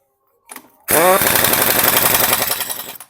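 An impact wrench runs for about two seconds as it tightens the clutch nut on a Hero Xtreme 160R BS6 motorcycle. The hammering rattle is loud and close, with a brief lighter knock just before it.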